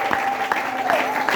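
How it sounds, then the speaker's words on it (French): A worshipping church congregation claps and cheers in a brief burst of dense, steady applause. A voice rings out over the crowd. "Est-ce que tu peux acclamer le Seigneur?"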